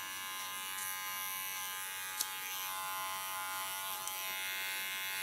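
An electric hair clipper with a clipper comb attached cuts through hair in a home haircut. A steady, close, high-pitched motor buzz hums continuously throughout, with a couple of brief sharp clicks and no talking.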